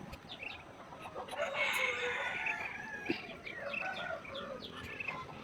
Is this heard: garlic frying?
no